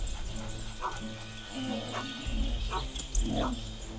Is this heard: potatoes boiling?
no